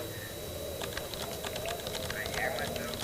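Keyboard typing clicks in a quick irregular patter over a steady background hiss, with a voice in the room.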